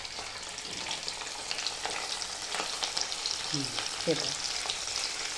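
Semolina-coated fish fries in hot oil with a steady, broad crackling sizzle throughout, joined near the end by a couple of brief clinks, while a voice speaks a few words.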